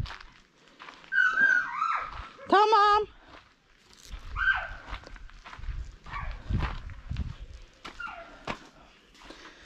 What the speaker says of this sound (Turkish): Köpekler gelmiş.